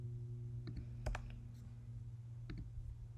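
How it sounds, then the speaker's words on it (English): A computer mouse clicks faintly a few times in quick pairs against a quiet room hum while slide titles are removed in PowerPoint, with no talking. "so let's click and delete them."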